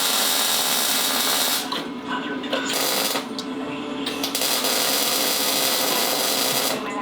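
A small power driver spins a 1/4 Allen head bolt into the engine block of a 212cc Predator engine, a loud continuous whirring with brief dips and pauses as the bolt seats.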